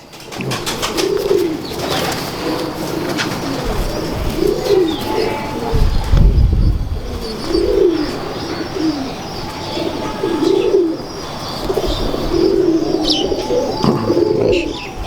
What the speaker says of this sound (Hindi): लाइट आंखों के कबूतर हैं